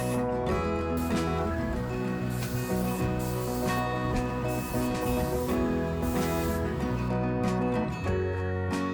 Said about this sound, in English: I've got a much better spray, wider coverage and more volume